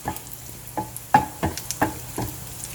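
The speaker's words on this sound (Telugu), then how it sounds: "వేడైపోయింది మంచి నెయ్యి, కొంచెం తక్కువ చేసుకొని మంచి ఫ్రై చేసుకోండి." Bread pieces fry in hot ghee for double ka meetha, a soft sizzle beneath sharp, intermittent clinks and scrapes of stirring, close by with no talking.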